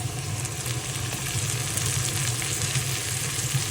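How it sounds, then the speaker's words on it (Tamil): Chilies and tomatoes sauté in a pan while cooking a bitter gourd chutney, a steady close sizzle and crackle with faint stirring and no talking. "மிளகாயும் கொஞ்சம் வதங்கி வருது, இன்னும் கொஞ்சம் வதங்கி தக்காளி பழத்தை போடுவோம்."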